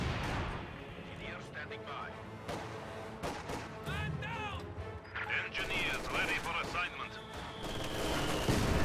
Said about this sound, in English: mortar half-track is firing blind